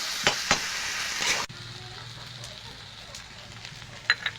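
Prawns fry loudly with spices and chilli powder in a pan, with stirring clatters, then the hiss drops to a quieter simmer with a few sharp clinks near the end.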